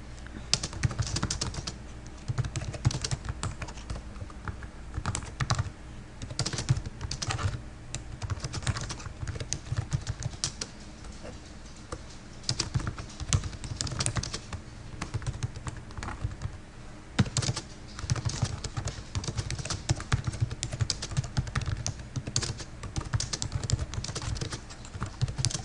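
Steady, fast typing on a computer keyboard while entering a website comment, with dense clacking keystrokes running continuously for the whole stretch, close and fairly loud, no voices.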